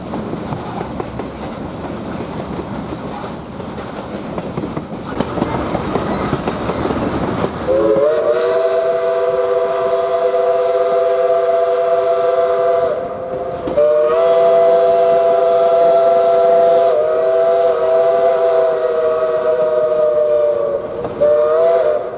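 A steam train, doubleheader locomotives 4501 and 630 on the Tennessee Valley Railroad Museum local, rolls along the rails with a steady rumble, then a loud steam whistle blows in long sustained blasts, pausing briefly before sounding again.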